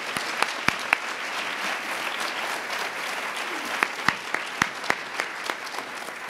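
An audience applauds to welcome Father Peter Donahue at a keynote event launching an institute for women's leadership: steady, full-room clapping with sharper individual claps standing out, lasting several seconds without speech.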